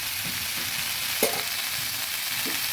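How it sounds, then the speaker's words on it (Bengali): Kabuli chickpeas with soybean chunks and potato are stirred in a hot pan, a steady close sizzle and frying hiss running throughout, with a single louder scrape of the spoon partway through and no voices. "ভালোভাবে নেড়ে রান্না করে নেব"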